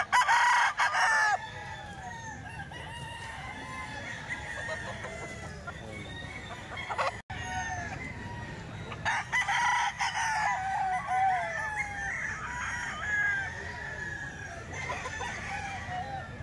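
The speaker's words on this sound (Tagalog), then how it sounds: "Manok pa ni Busperi to" Roosters crow repeatedly amid a flock of clucking chickens, steady and fairly close, with someone talking faintly in the background.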